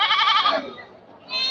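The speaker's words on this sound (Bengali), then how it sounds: "ওই যে দেখেন ছাগলগুলো এখন দাঁড়িয়ে বিক্রি করছে" Goats bleat at a busy goat market, a loud wavering bleat up front, a short lull, then another bleat starting near the end, with faint background murmur.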